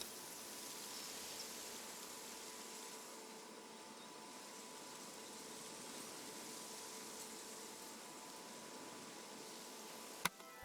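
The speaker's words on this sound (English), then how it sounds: "I think they are cicadas." Cicadas buzz in the video game Season: A Letter to the Future, a steady, sustained high drone that stays even and moderately faint throughout, ending with a sharp click.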